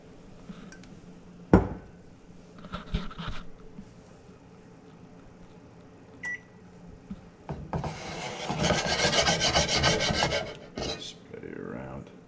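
A utensil scrapes and rasps as cheap pasta sauce is spread around a heating pan. Scattered scrapes give way to a louder, dense stretch of rubbing and sizzle-like grinding near the end.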